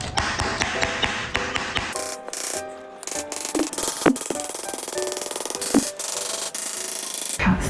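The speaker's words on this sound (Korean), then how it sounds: "그래서 그런 부분들은 이런 망치 사용해가지고" A hammer taps staples into the wooden frame of a silk screen printing screen while mesh is stretched over it, delivering a series of sharp close knocks amid rustling and scraping handling noise.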